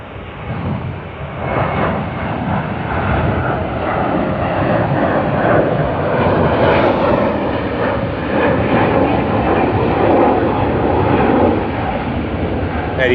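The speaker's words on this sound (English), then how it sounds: "787-9 of LATAM Airlines being taken to the remote stand" A LATAM Airlines Boeing 787-9 is moved across the ramp at Sydney Airport, a steady loud engine roar and whine close by, continuous for the whole stretch with no talk.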